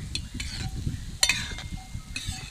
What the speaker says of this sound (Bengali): একসাথে কিন্তু অনেকগুলো গাঁটটা ভাজা যাচ্ছে